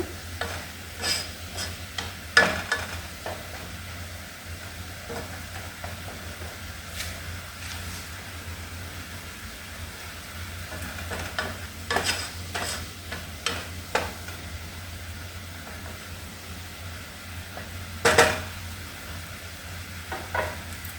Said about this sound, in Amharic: እንደዚህ እያደረኩኝ ሽንኩርቱን አበስላለሁ